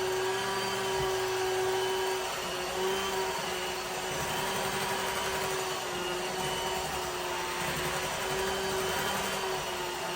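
A vintage electric kitchen mixer runs steadily for the whole stretch, a constant whining motor hum with a strong tonal note and a broad buzzing wash. It is close and alone, with no talk over it.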